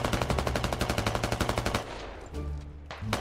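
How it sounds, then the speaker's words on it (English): Rapid automatic gunfire from a player in a large multiplayer shooter game, loud and close, firing in a steady burst of quick shots for nearly two seconds before cutting out, followed by a few scattered heavier shots. "I know there's a guy shooting at me from this way."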